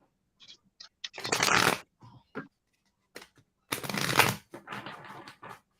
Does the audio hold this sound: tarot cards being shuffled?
yes